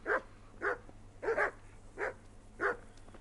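Dogs barking in the medieval video game Kingdom Come: Deliverance, five distinct bark bursts spaced roughly half a second apart, moderately close and clear, with no talking.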